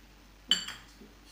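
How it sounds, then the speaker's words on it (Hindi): A single metal spoon clink against a bowl while stirring sugar into sweet and sour lemon pickle, one bright tap followed by a softer scrape and a faint second touch, close and otherwise quiet. "चम्मच की सहायता से एक बार एक अच्छे से मिक्स कर देंगे"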